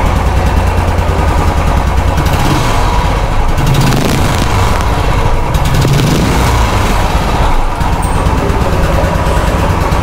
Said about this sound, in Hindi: हम बाइक स्टार्ट करके देखते हैं कुछ साउंड में भी चेंज है कि नहीं है